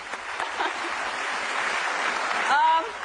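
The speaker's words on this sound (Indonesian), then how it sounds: "Kita kasih tepuk tangan juga untuk Mas Wendo" A studio audience applauds a guest on a television talk show, a soft, even crackle of many hands held at a distance, with a voice briefly rising near the end.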